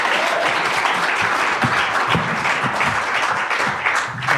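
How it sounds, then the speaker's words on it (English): An audience at a Tolkien session during a beer camp gives a sustained round of applause, with dense clapping that continues throughout. "if you would give him a round of applause"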